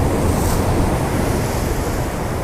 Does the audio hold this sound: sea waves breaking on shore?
yes